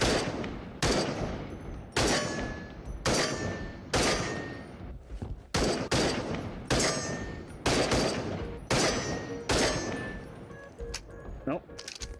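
Repeated gunfire from a gun in the VR shooter Into The Radius: about ten loud, sharp bursts at roughly one-second intervals, each with a short ringing tail, with game ambience in between.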